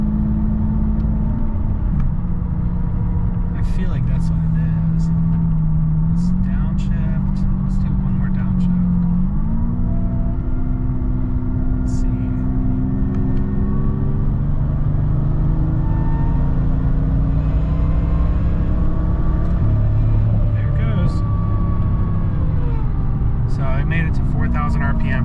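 A car engine revs hard under load, rising and falling in pitch, loud and steady for the whole stretch, while a person talks over it.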